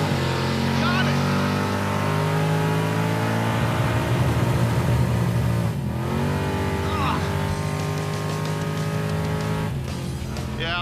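A drag race car, the Crop Duster build, runs at a drag strip with its engine revving loud and sustained. The pitch climbs, then breaks through shifts and holds a high note, with no speech.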